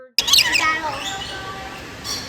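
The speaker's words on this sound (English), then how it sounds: "one of those cool aviaries where you can feed and hold the lorikeets" A burst of harsh, shrill lorikeet and exotic bird squawks starts abruptly up close, then trails off into a busy murmur of calls and chatter in an enclosed aviary.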